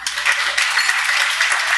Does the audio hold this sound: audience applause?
yes